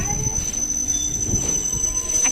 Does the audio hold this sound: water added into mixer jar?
no